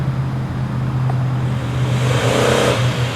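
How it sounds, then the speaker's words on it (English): A Kia car revving during an attempted burnout at a proving ground, a steady engine drone with a rising, strained surge near the end, heard from a moderate distance. "I'm going to attempt a burnout in my Kia at the proving grounds."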